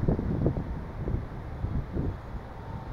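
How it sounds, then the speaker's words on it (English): Strong cold wind beside a river buffets the microphone in irregular low gusts and rumbles, steady and fairly loud, with no talking. "I just tried to show you how windy it is."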